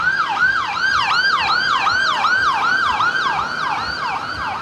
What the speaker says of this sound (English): An ambulance coming through.